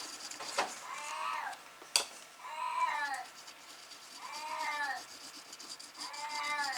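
A deaf cat meows loudly indoors, giving four long, drawn-out wavering calls spaced a second or two apart, with a sharp clatter partway through and quiet room noise underneath.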